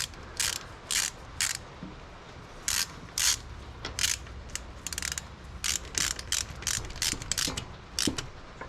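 A ratchet wrench tightens bolts during an oil change on a 2006 Raptor 700 ATV, giving bursts of quick, close clicking in short uneven runs, with brief pauses between the strokes.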